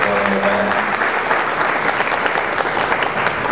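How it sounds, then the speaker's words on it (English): Audience at an event applauding in a round for its supporters: continuous dense clapping from a crowd, steady and fairly loud throughout. "I'll give them a round of applause and thank them for supporting the event"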